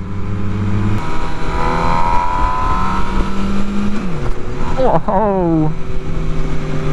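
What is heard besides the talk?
MV Agusta Brutale 1000 RR motorcycle engine, 200 hp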